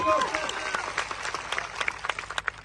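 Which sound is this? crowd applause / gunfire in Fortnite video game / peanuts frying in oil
crowd applause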